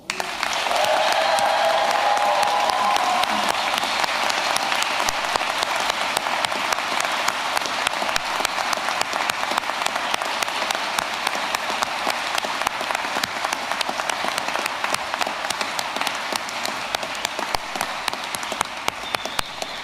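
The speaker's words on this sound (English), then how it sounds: "can I ask you all to give a huge round of applause in celebration and to congratulate our class of" A crowd at the American College Dublin 2024 graduation ceremony applauds the graduating class with dense, sustained clapping that holds steady for about twenty seconds. A brief whistle-like cheer rises near the start.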